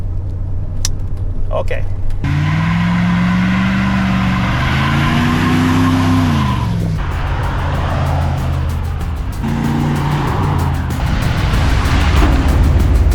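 A 1997 Ford F-250 truck with a Banks Power setup drives on a test run, its engine droning steadily and rising and falling in pitch as it accelerates. A voice speaks briefly once.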